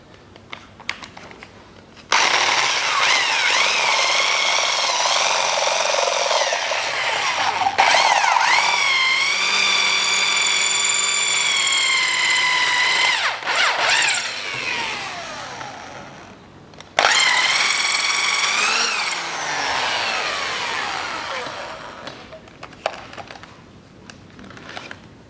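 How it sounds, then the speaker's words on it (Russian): An electric drill whines loudly while boring into metal during an engine replacement on a 2001 Daewoo Nexia 1.5, one long run and then a shorter second burst, its pitch shifting under load. "И сверлим отверстие"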